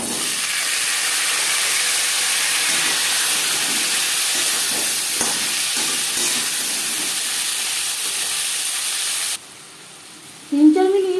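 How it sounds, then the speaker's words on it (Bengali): Potatoes frying in hot oil with five-spice and bay leaf give a steady, loud sizzling hiss for most of the stretch. The hiss then drops away abruptly, and a brief voice comes in near the end. "15-20 সেকেন্ড 5 ফোড়ন তেজপাতা ভেজে নেওয়ার পর দিয়ে দেবো আলু।"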